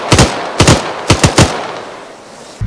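Close, loud machine gun fire in the game Arma 3: a short burst of sharp shots, then a quick cluster of three, each cracking and fading into a brief echo.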